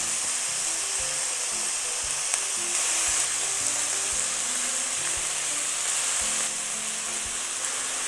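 Grated ginger and garlic stir-frying in a hot pan, a steady bright sizzle with soft scraping and stirring knocks scattered throughout, close and continuous with no talking.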